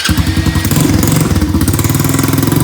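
A gas ATV engine is cranked using a booster pack and catches, settling into a loud, close, rhythmic low chugging that runs throughout without talk.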